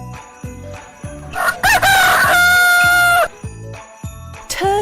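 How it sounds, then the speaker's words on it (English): A rooster gives one loud, close cock-a-doodle-doo crow lasting nearly two seconds, followed by a short rising call, over a steady rhythmic background beat. "Rooster."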